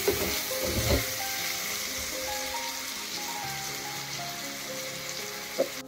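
Onions fry with chicken in a pan, a steady close sizzle and crackle that runs throughout, with a few clanks of the utensil near the start and end.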